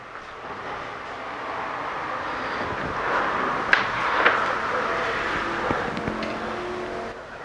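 An air-cooled VW engine, recently rebuilt after an exhaust stud repair, running with a steady, loud, continuous drone and a few sharper bursts from start to finish.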